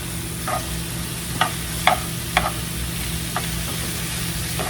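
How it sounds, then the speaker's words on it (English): Chicken sizzling in a pan with a steady frying hiss, punctuated by several sharp clicks and taps of a utensil against the pan. "Cooking our chicken."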